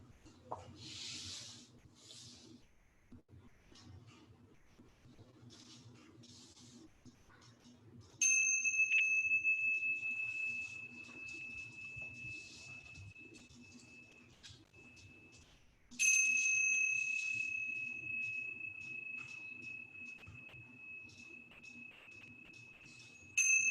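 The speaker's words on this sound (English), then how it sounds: "Allowing the sound of the tingshas, the bells, to clear all unnecessary energy." Tingshas, small Tibetan bells, are struck twice during a gentle yoga class. Each strike gives a bright, clear chime that rings on and slowly fades over a faint, quiet room background.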